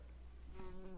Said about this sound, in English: it was a fly buzzing